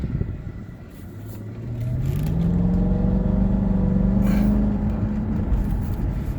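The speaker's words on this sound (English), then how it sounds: "I'm going to try to give it a little punch over here" A 2004 Mercedes S55 in comfort mode accelerates hard from inside the cabin, its engine note rising steadily into a loud, sustained pull with a deep rumble underneath.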